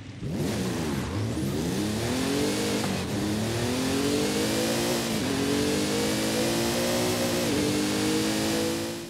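A Rossion Q1 sports car engine in Forza Horizon 5 revs loudly and continuously, its pitch climbing and dipping through repeated throttle blips and gear changes with no talk over it.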